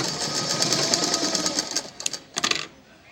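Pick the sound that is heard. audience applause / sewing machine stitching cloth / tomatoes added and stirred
sewing machine stitching cloth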